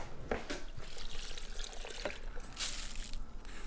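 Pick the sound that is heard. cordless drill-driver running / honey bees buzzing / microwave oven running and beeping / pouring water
pouring water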